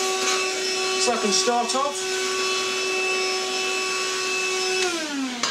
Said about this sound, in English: I've got my vacuum,